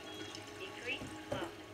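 Strong alkaline water streams from the outlet pipe of a water machine, a soft steady splashing flow at low level with a brief louder gurgle near the end.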